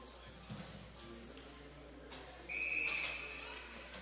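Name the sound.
referee's whistle at a women's ice hockey game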